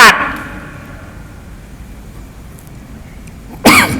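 A single sharp cough bursts out at the start, then a near-silent pause of a few seconds before a second loud cough or throat-clearing, close to the microphone.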